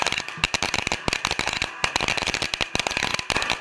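Firecrackers burst in a rapid, dense string of sharp cracks and pops, loud and continuous at morning outside a home before a temple visit.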